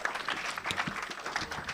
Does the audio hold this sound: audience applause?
yes